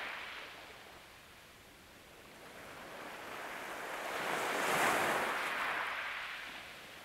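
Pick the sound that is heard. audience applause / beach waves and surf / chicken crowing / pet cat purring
beach waves and surf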